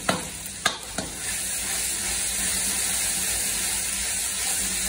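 Mutton sizzling in a kadhai indoors, with a few sharp spoon clanks against the pan at the start and then a steady loud frying hiss that carries on alone, close to the pan.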